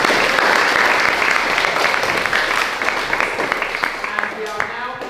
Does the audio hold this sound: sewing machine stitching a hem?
no